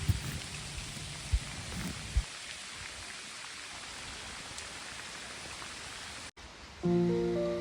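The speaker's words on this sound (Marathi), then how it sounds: "पावसाच्या सरी कौलांवर कोसळत होत्या" Steady rain pours down on a tiled roof of a village temple, a constant hiss with a few brief knocks near the start and a short tonal hum toward the end.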